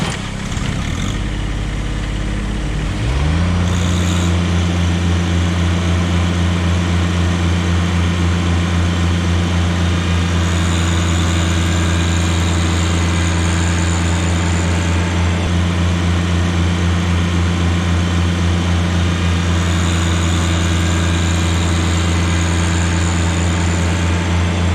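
Kubota BX and John Deere 1-Series compact tractors running in low range at full RPM: a loud, constant droning engine hum with steady harmonic tones after an initial rev-up, close by and without talking.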